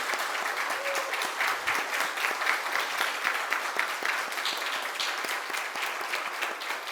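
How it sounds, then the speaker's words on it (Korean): A church congregation applauds in welcome of visiting ministers from Brazil and Mexico at a Sunday worship service, a dense, steady roar of many hands clapping together, fairly loud and sustained throughout with no speech over it. "크게 환영의 박수를 올리겠습니다."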